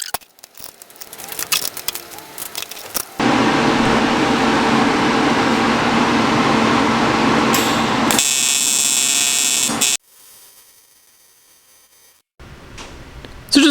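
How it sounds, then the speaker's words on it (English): Short MIG-style tack welds fixing a small piece in place on a turbo LS1 cold-side intake pipe for an F100, heard as a steady loud buzzing crackle running several seconds, broken by bursts and pauses between tacks. "we'll just put a couple tacks on it and hold it in place"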